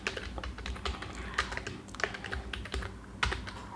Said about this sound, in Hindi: कंट्रोल शिफ्ट 1 दबाइए कीबोर्ड में